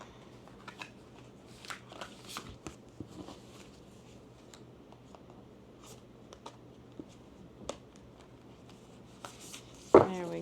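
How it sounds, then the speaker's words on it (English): Crisp riffling and flicking of a matte deck of reading cards being shuffled at close range, with soft taps and a sharper clack near the end. "Give it another shuffle."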